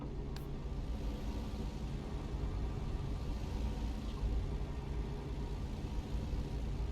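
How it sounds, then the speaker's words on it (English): Truck engine heard through an open window while driving, a steady low rumble with constant road and wind noise throughout, continuous and even with no talking. "Can you hear the engine?"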